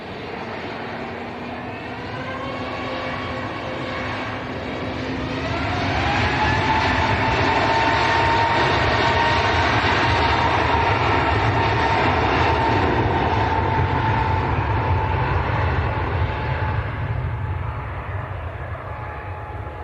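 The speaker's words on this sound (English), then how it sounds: "What a beautiful livery. Airbus A321 Neo." An Airbus A321neo jet airliner takes off at Manchester Airport, its engine roar building steadily to a loud, sustained rumble with rising whining tones, then easing slightly as it climbs away.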